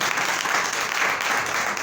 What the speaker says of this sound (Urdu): ہاللیلویا، زوردار تالیاں خداوند کے لیے بجائیں۔